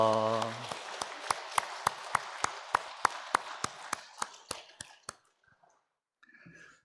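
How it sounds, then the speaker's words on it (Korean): Church congregation clapping in welcome during a Sunday service, heard as a steady series of sharp, evenly spaced claps that slow and fade out, then brief quiet room sound. "모든 성도님들을 환영하는 마음으로 우리 박수로 맞이하도록 하겠습니다"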